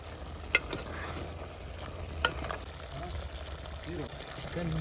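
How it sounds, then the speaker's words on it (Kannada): Chicken is stirred with spices in a village-style mud pot, a soft scraping and sizzling close by with a couple of light knocks, quiet under occasional talk. "ಎಲ್ಲ ಸ್ಪೈಸಸ್ ಹಾಕಿ ಮಿಕ್ಸ್ ಮಾಡ್ಕೊಳ್ಳಿ."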